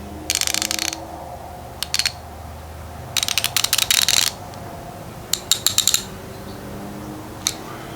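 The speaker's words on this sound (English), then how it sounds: "Now here's what it sounds like." A Craftsman Overdrive ratchet clicks close up in short bursts of rapid, sharp metallic ticks, separated by pauses, with a few single clicks near the end and no talking.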